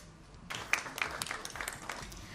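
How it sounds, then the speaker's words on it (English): An audience at an industry event breaks into brief applause, a scattered burst of hand claps starting after a quiet moment and continuing fairly faint and moderately dense. "Can we have a round of applause while we felicitate our speakers?"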